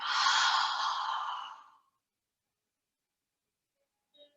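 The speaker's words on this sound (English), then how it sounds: "Open mouth exhale. Send it out." A long, breathy open-mouth exhale during yoga breathing, fairly close and gently fading out over about two seconds, then near silence.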